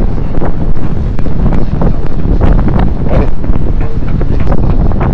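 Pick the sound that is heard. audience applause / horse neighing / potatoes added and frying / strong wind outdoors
strong wind outdoors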